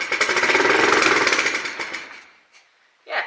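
A Chinese pit bike engine, needing a carb clean and an oil change, runs with a rapid loud buzzing putter for about two seconds, then dies away, followed by a brief clatter.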